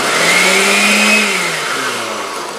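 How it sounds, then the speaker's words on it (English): A food processor whirring loudly as it chops nut-free pesto ingredients, a close steady motor whine that slowly drops in pitch as it winds down. "That's why it's a food processor."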